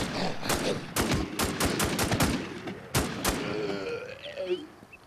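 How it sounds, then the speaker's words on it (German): In the Infestation Survivor Stories video game, a gun empties most of a magazine in quick sharp shots, some clustered rapidly, before fading into growling creature noises. "Das war fast mein ganzes Magazin."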